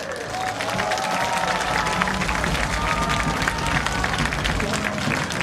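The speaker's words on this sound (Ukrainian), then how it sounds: "Ваши аплодисменты!" Sustained, loud crowd applause and cheering for the third-place fighter at a medieval knight combat tournament, a dense continuous roar of many hands clapping with voices mixed in, steady from start to finish.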